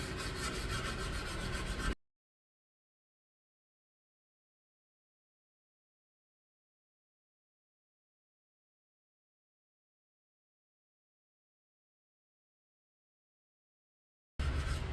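A forged piece is hand sanded with 180 grit sandpaper, a close, loud, scratchy rubbing at the start. It is followed by a long stretch of silence, and the rasping briefly returns at the very end.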